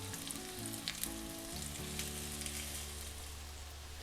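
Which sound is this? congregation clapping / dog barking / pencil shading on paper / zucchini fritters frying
zucchini fritters frying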